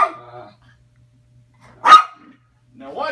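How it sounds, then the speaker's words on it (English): A single sharp dog bark sounds close by, with brief bits of a voice talking just before and after. "It looks like we got ourselves barking."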